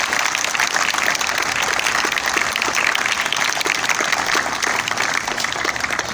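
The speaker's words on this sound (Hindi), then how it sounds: "मेरा ख्याल है कि मुजाहिद साहब के लिए खास खास किस्म की ताली बजाएं आप।" Dense, loud applause from a large audience, a continuous close wash of many clapping hands sustained without a break.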